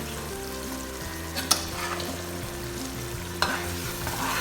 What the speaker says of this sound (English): So I'm stirring everything together, and we'll keep frying until it is well fried and it's not as watery as this again.